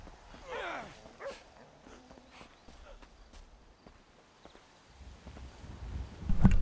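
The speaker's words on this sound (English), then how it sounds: "Man, that's a cool-ass dog you got, homie." A dog in Grand Theft Auto V barks in short bursts amid footstep-like clops and faint background activity, followed by a louder thump near the end.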